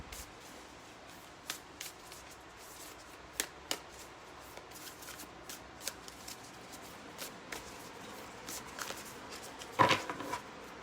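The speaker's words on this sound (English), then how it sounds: "I know it's boring watching people shuffle cards" Faint, soft shuffling of oracle cards from the Super Attractor deck with sporadic light snaps and taps, sparse and quiet, with a slightly louder rustle near the end.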